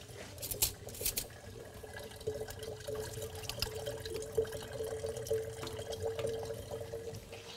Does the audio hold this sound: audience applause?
no